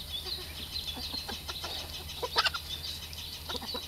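Backyard chickens eating wild bird seed, clucking in soft repeated bursts close by, several birds murmuring over a steady background hum.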